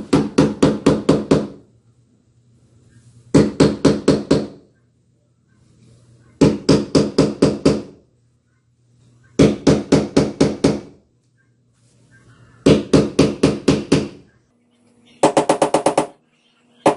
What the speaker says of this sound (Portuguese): Chegou lá no tijolo, a gente vai pegar o martelo e bater.